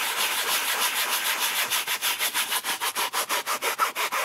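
Hard brush scrubbing upholstery cleaner foam into a car seat, a rough bristly rasp that starts as continuous rubbing and settles into quick regular back-and-forth strokes, close and alone.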